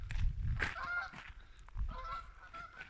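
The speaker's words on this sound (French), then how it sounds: "il y a des oies de combat, regarde" A few geese honking close by in open countryside in Canada, a short burst of loud nasal honks, then a pause and another round, with no talking over them.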